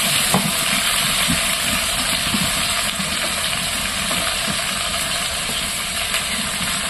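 Spice paste with garlic frying and being worked in a pan over a stove while cooking jackfruit with prawns, a steady broadband sizzle running throughout at close range, with no talking.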